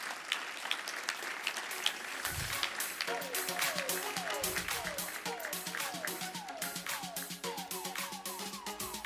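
An audience applauds an award presentation at a gun rights policy conference, with steady clapping that runs the whole stretch beneath louder tonal sounds and possible voices.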